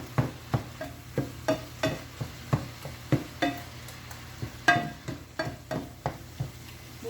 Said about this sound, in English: I'm continuing just to chop it up while it's cooking